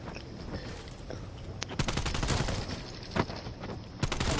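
Automatic gunfire in Call of Duty Zombies, loud rapid bursts of shots close up with sharp cracks standing out, against a busy game background.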